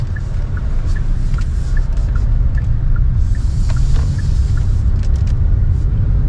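Steady low engine rumble and road drone from inside a Hyundai Creta diesel automatic on the move, with faint regular ticking throughout and no talk.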